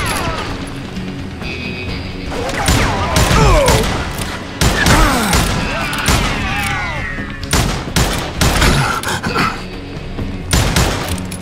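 Gunfire in the western shooter Call of Juarez Gunslinger, a camp fight near a railway: loud, close bursts of repeated shots and impacts over shouting voices and game sounds.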